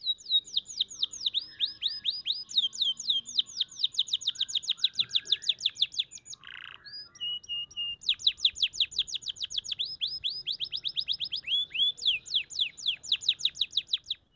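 A canary sings continuously at close range in rapid repeated trills and chirp runs, broken by a short pause in the middle before the song resumes, with faint background noise underneath.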